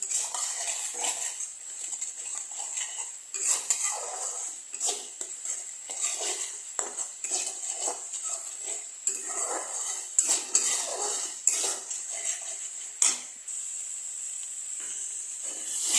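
A tomato fish curry being stirred down in a pan: repeated scraping and clinking of a spoon against metal over a steady sizzling hiss, with irregular knocks throughout and no talking.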